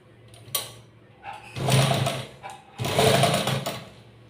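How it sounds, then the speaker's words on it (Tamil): A sewing machine stitches a folded handkerchief hem in two bursts of rapid mechanical whirring and clatter separated by a short pause, close and fairly loud. "போட்டுட்டு மறுபடியும் இது ஃபுல்லாகவே மடித்து தைக்க போகிறோம்."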